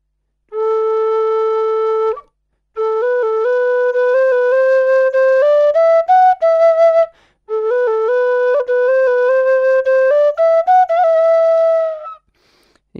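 A tin whistle in G plays sustained, pure notes near and alone, in two breathy phrases separated by short pauses, with a few quick note changes.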